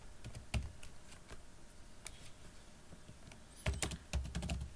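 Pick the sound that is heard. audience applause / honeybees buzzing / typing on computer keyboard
typing on computer keyboard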